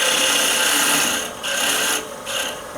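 Roughing gouge cutting into wood on a lathe while turning a spike star ornament, a steady loud rasping scrape that briefly drops away twice as the tool lifts from the work.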